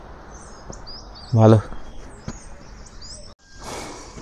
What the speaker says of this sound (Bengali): হ্যাঁ, পাখির ডাক দেখো,